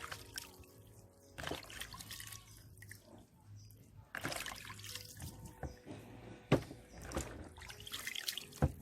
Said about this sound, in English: So I'm washing off the turkey neck